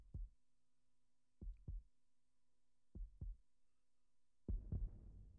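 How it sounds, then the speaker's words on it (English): A big, deep heartbeat from the PlayStation 1 game Chrono Cross thumps in low paired beats, three double pulses spaced evenly, then a louder, reverberant final thump. "Big heartbeat."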